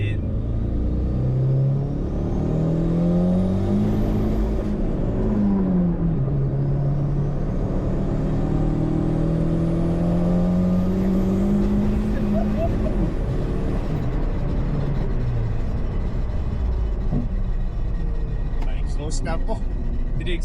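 A VW MK1 Caddy with a turbocharged 1800 20V engine and a loose exhaust rumbles and accelerates on the road, heard from inside the cabin, with engine pitch rising and falling while people talk throughout.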